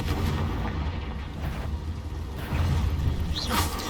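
Confringo fire-blast spells from the video game Hogwarts Legacy, cast inside a cave, produce booming blasts over a dense rumbling game soundscape, ending with a rising whoosh.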